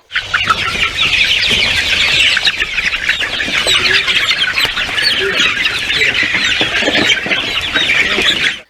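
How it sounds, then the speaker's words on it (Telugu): Chickens on a poultry farm cluck and squawk in a dense, overlapping chorus, close and fairly loud, continuing without pause throughout. "హైదరాబాద్కి వెళ్లి ఒక్కరోజు వయసున్న కోడి పిల్లలు తీసుకొచ్చి పెంచుతున్నారట"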